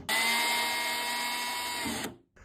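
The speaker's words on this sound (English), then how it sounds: "let me drill the holes for this tank cover" A power drill runs loud and steady for about two seconds while drilling holes for a Yamaha R1 motorcycle tank cover, then winds down, followed by a brief restart.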